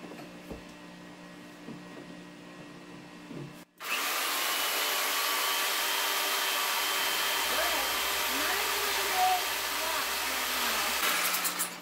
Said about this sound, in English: I'll turn back on the vacuum cleaner.